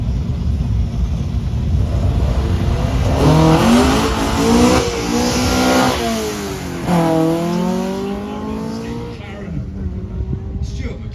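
A rear-wheel-drive Opel Kadett GTE rally car runs down a hill at the Salon Privé Classic & Supercar 2022 event, engine revving and rising through two loud passes close by while someone talks over it.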